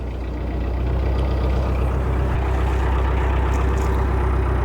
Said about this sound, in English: I'm just going to give a few more revs as well.